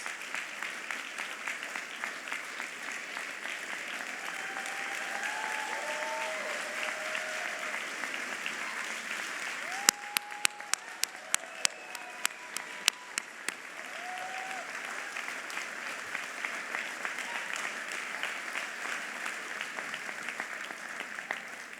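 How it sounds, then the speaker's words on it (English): Sustained audience applause fills an auditorium as outstanding TCB members rise to be recognized at a Philadelphia mayoral 100-day event, steady and moderately loud throughout, with a few sharper individual claps standing out near the middle. "Please rise so that we can give you a big round of applause."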